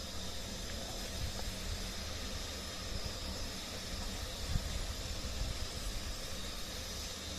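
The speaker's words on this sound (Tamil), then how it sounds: "பாருங்க, எண்ணெய் நல்லா காஞ்சிங்கனால புட்டு புட்டுன்னு வருது." Puri dough frying and puffing in well-heated oil, a steady close sizzling hiss of bubbling oil throughout with faint crackles and no talking.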